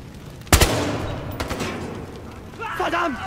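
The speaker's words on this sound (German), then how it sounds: "Jetzt ein dummer Schuss wieder" A single sharp gunshot in the PC game Battlefield Hardline rings out, followed by a fainter second shot, with a voice briefly speaking toward the end.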